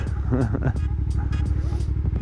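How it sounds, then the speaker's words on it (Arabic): A Yamaha TDM 900 motorcycle engine rumbles steadily on a test ride, its low throbbing drone running continuously under a man's speech. "تيست رايد ديال واحد الموتور معروف تي دي ام 900"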